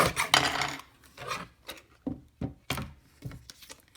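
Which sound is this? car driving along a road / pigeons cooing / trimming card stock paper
trimming card stock paper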